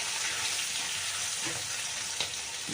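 Cumin powder sizzles in a hot pan, a steady close hiss with a couple of faint clicks from stirring.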